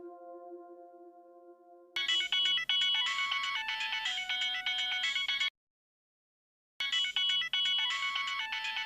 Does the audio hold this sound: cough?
no